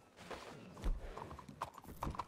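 A horse in a ranch roleplay video game clip-clops at a steady walking rhythm, faint and distant, with a snort or whinny mixed in and no speech over it.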